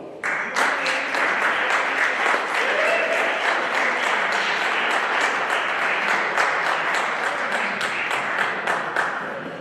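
A banquet audience at a football awards dinner breaks into sustained applause, many hands clapping steadily and densely for nearly ten seconds, filling the room at an even level.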